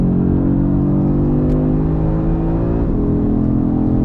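A 2022 Audi RS3 engine pulls hard from inside the car, a loud steady rising drone with a brief pitch dip near three seconds, like a gear change.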